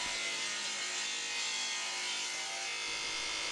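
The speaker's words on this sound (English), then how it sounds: "I rip the strips in half." A saw rips walnut strips for an end grain cutting board, a dense continuous high-pitched whine and hiss of blade cutting wood, loud and unbroken throughout.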